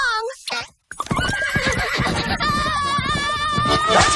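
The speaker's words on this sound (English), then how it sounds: "That's my horse!" A cartoon horse whinnies loudly in a long, wavering neigh that rises and trails off, with hoof clatter and busy cartoon effects and music around it after a brief silent gap.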